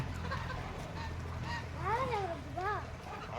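Geese honk loudly twice in quick succession beside a pond, nasal rising-falling calls over a low steady background hum.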